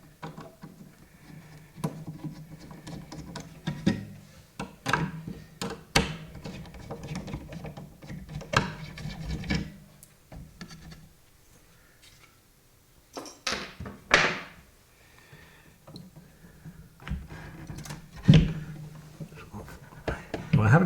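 Parts are undone inside a vintage Dulcitone tuning fork piano, with irregular clicks, taps and knocks of fittings being loosened, mixed with rustling and a person talking.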